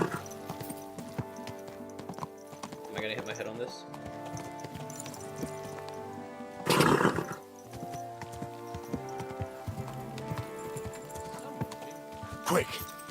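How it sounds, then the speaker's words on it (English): Horse hooves clip-clop steadily in Kingdom Come Deliverance 2, with a brief louder burst that may be a whinny, while someone talks over the game sounds. "Easy, good horse."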